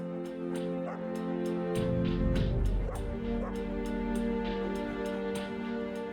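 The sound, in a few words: dog barking and whimpering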